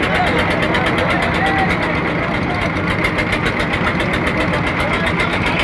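A large motor boat's engine runs steadily on the Ichamati river, a loud, continuous droning hum close by with no letup, and people talk over it throughout.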